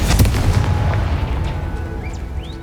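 A Confringo blasting spell explodes in the Hogwarts Legacy video game: a heavy booming burst up front that rolls off into a fading rumble, with small whistling magical effects late on.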